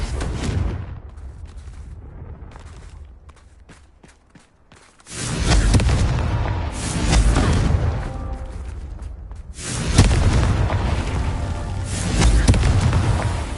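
In Hogwarts Legacy, Confringo fire spells burst in loud booming explosions, several heavy blasts separated by a quieter stretch, with rumbling game ambience between.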